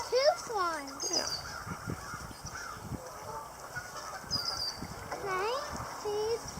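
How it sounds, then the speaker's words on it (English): Geese honk repeatedly outdoors among mallards and swans, with several loud calls near the start and again later, rising and falling over a low background of soft noises and faint voices. "Yeah, geese and mallards and some swans."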